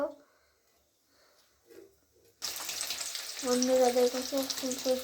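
Pea kachori frying in hot oil: after a quiet start, a loud, dense sizzle bursts in midway and holds steady, with a voice talking over the bubbling.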